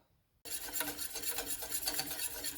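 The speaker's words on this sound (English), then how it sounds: "Keep stirring until it thickens up" Custard mixture being stirred in a saucepan on the heat: a continuous soft scraping and rubbing of a spoon or whisk against the pan, close and fairly quiet, starting abruptly after a brief silence with no talk.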